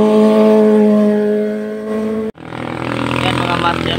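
Big bikes roar past close by, one loud, sustained engine drone that suddenly cuts out and is followed by rougher revving from another motorcycle approaching.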